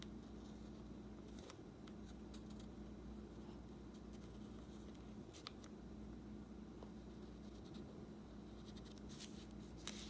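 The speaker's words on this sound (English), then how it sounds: "Now you can take a pen, pencil, or marker and draw two eyes here." A pen draws eyes on a folded origami paper crab, giving a quiet, continuous scratchy scribbling with a few brief taps over low room hum.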